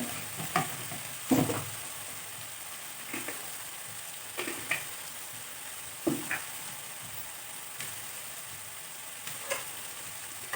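Mustard seeds crackling in hot oil for a fish roast, a soft sizzle punctuated by scattered sharp pops and occasional stirring clinks, close by.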